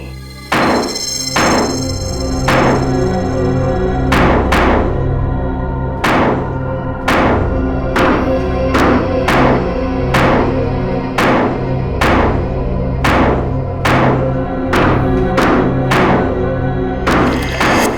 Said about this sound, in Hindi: खोदो इस पानी की टांकी को,